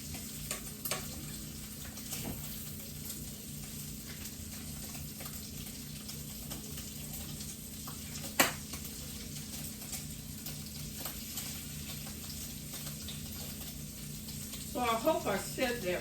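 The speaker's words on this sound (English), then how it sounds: "Got a task here, cooking off the bacon." Beef peppered bacon frying in a pan, a steady low sizzle running throughout with occasional louder pops and clatter near the end, close and fairly quiet.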